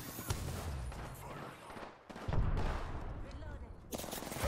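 Rapid gunfire from a video game shootout crackles through most of the stretch, with a brief lull near the middle before bursts resume, mixed with game sounds and occasional talk.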